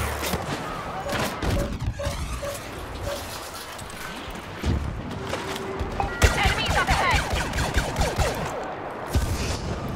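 Heavy blaster and pulse cannon fire in the Star Wars Battlefront video game, loud rapid bursts and crackling shots in a dense, continuous battle din.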